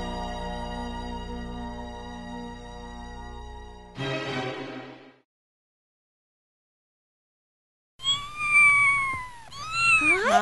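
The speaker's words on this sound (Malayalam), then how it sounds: "പൂച്ചക്കുട്ടികൾ." Kitten meows rise and fall at close range, with a stretch of silence in between and a burst of high, wavering cries near the end.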